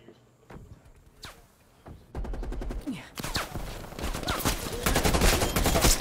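Gunfire from Call of Duty: Black Ops Cold War starts as a few sharp isolated shots, then builds into dense, loud rapid-fire automatic bursts that grow more intense toward the end.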